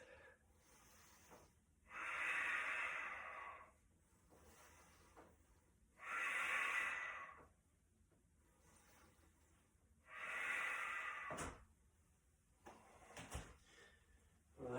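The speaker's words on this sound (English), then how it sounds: "Just breathe." Slow deep breathing during a yoga balance pose comes as three long, even breaths about four seconds apart. Each one is a soft rushing sound, close but quiet, with faint room noises between.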